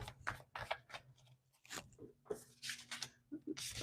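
Soft, papery riffling and tapping of tarot cards being shuffled in short bursts, close by, with quiet murmured speech in between.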